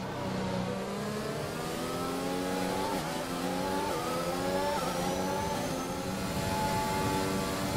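A Formula 1 race car in the F1 2021 video game screams steadily at high revs, its engine pitch rising and dropping through gear changes in a continuous close onboard drone.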